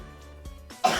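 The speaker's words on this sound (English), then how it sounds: "Let me actually cough." A person coughs and clears their throat, a few rough bursts building to one louder, harsh cough at the end, close and with no talking.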